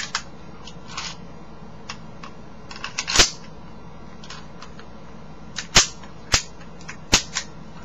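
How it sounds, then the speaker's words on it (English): A WE Luger gas blowback airsoft pistol fires a handful of sharp, snappy cracks, one at a time and then several spaced apart, over a quiet background with a few softer clicks. "Great gas blowback pistol."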